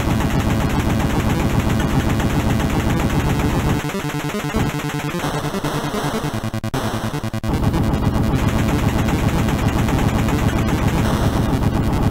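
Rapid gunfire from The Punisher on the NES, dense chiptune bursts packed together over loud game music, with a brief thinner stretch midway before the full barrage resumes.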